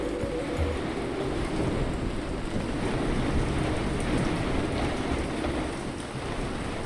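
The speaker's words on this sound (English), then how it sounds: "we can hear the rain" Steady rain hisses in the video game Ancient Cities, a dense, even wash of falling drops at moderate level with faint low rumbling underneath and no voices.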